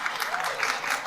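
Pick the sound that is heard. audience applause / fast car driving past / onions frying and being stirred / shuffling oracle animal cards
audience applause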